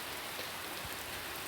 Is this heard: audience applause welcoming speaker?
no